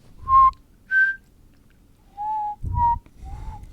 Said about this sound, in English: How do you whistle then?